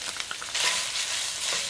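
Onion frying in a pan with pork and rice gives a steady, close sizzle that swells louder partway through, with faint scraping under the hiss and no talking.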